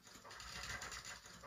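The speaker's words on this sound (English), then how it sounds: "Let's import the sound of the pages." Soft, dry papery rustling of book pages, fairly quiet and continuous for a moment, with no voices.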